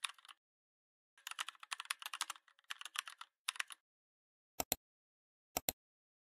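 Formula entry on a computer keyboard: quick bursts of soft, close key clicks in irregular runs separated by silence, finishing with a few isolated sharper keystrokes.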